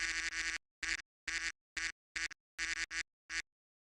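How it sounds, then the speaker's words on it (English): Played duck quack sound effects, about nine short loud bursts in an irregular sequence separated by dead silence, each a bright nasal quack. "Yes, that was a bunch of quacks."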